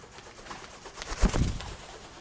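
A pet bird gives a short, low cooing vocalization, a brief soft burst near the middle over quiet room background.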